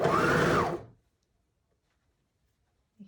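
A sewing machine stitching fabric runs in a short, steady buzzing burst for under a second, then stops, followed by near silence and a faint soft thump.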